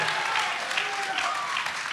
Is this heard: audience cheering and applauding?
yes